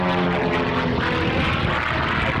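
A propeller aerobatic aircraft from the Wildcat Aerobatics team performs at the RAF Marham airshow, its engine a steady, loud, continuous drone with a rough buzzing tone and no talking.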